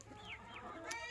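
A backyard flock of hens clucks in a brief, close burst of overlapping calls, with no talking.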